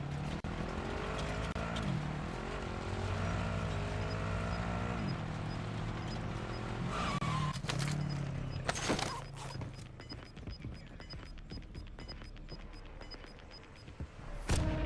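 A car driven in Call of Duty Warzone, its engine droning steadily and shifting in pitch as it accelerates, later joined by bursts of gunfire and sharp crackling impacts.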